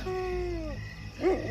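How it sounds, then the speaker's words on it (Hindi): A dog at night gives a brief whining, howl-like tone that slides downward and then a short sharp yip, heard nearby over a steady low background hum. "रात के 3 बजे और कुत्ते भौंक रहे थे"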